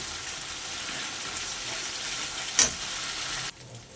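Ginger garlic paste sizzles in a hot pan with a steady, soft hiss, broken by a brief clink before the frying sound suddenly drops away.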